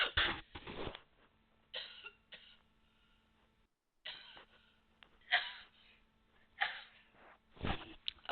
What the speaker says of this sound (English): Wow, that was not only a cough, but it was a sneeze at the same time.